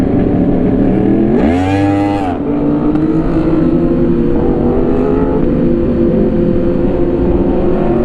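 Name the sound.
sport motorcycle engine revving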